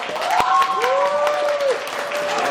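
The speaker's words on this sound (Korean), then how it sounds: "우리가 한번 박수 쳐볼까요?" A church congregation claps in celebration during a Sunday service, steady applause overlaid with sustained tonal voices or cheering and a sharp knock near the start.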